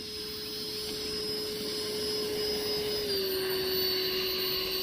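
Freewing Eurofighter Typhoon model jet with an upgraded FMS 90mm 1900kv electric ducted fan, running at quarter throttle: a steady, close, high-pitched whine with rushing air that holds constant and dips slightly in pitch partway through.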